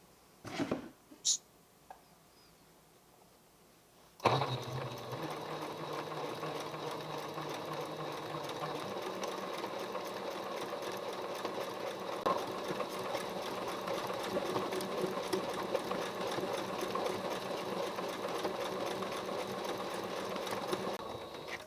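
Sewing machine stitching free motion embroidery, small filling swirls in white thread on white canvas, runs in a steady continuous whir from about four seconds on after a few brief knocks and a quiet start.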